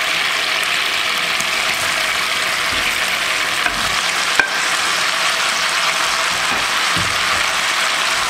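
Fried chicken pieces stirred into a bubbling hot, spicy Chicken 65 sauce in a pan, a steady loud sizzle with occasional scraping and clinks of the spoon, no voices.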